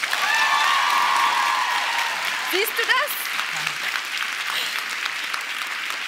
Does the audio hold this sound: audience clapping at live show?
yes